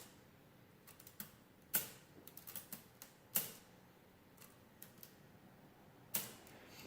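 Keys on a Burroughs Class 1 adding machine latching down during repair, a scatter of sharp mechanical clicks and clacks at uneven intervals, a few louder snaps standing out, close up and alone in a quiet room.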